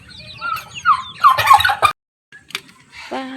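Turkey hens on a small family farm where they are laying eggs, letting out a run of loud, rattling gobble calls up close, then a pause and a few shorter, softer calls.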